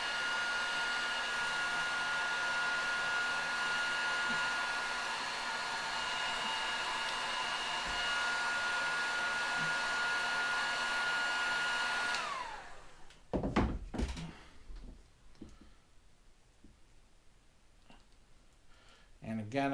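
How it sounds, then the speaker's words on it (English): A heat gun blowing hot air onto heat shrink tubing over a fishing rod sock, a loud steady whine lasting about twelve seconds before it cuts off, followed by handling clicks and faint movement. "just hit it again with a heat gun and make sure that it's collapsing as much as it possibly can"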